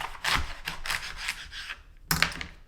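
A knife slices through a celery stalk, trimming off the white base: a quick run of crisp, close cuts, a short pause, then one louder final chop.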